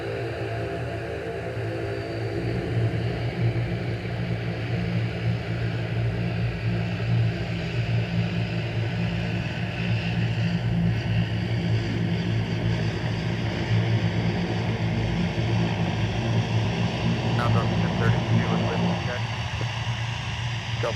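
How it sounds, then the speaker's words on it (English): Turboprop airliner engines drone at MSP airport in the evening, a continuous loud layered hum with steady tones that carries on throughout, with a voice speaking over it. "Listen to the sound of those turboprops."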